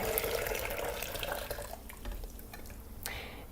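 Hot water that has cooled slightly is poured from a kettle into a cup for lemon ginger tea, a soft splashing trickle that tapers off over a few seconds, quiet and close.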